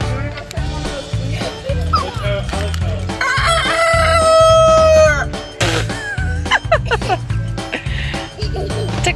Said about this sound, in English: Do you hear the rooster?